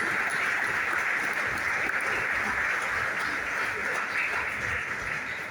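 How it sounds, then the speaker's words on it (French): Audience applause at the French National Assembly's political book day: steady, dense clapping from a crowd, sustained and fairly loud throughout without a break. "que je vous demande d'applaudir très fort."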